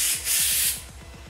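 A short hissing spray burst from a nearly empty whipped cream can, strong at first and then tapering off.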